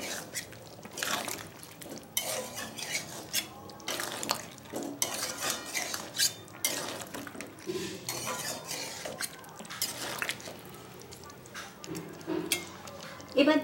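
Chicken being mixed with spices and rose water in a pot for chicken kasha, giving steady scraping and clinking of a spoon against the pot with wet, liquid stirring sounds throughout, close and moderately loud.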